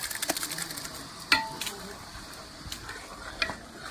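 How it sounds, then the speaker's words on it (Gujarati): Tomatoes added to an onion tempering for dal cook with a soft sizzle, broken by a few sharp clinks and scrapes of stirring against the pot, nearby and fairly quiet. "ડુંગળી ટમેટાનો વઘાર થઈ ગયો હોય અને હવે આપણે ટમેટા નાખી દઈએ."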